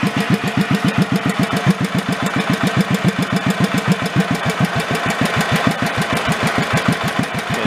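An old Batmobile car engine, left 40 years under a tree, runs slowly at low RPM with a steady, loud, uneven putt-putt chugging, close and alone for the whole stretch.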